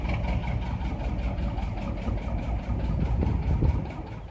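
A vintage canal boat engine chugs at idle, a steady low rhythmic thumping that holds close and even throughout.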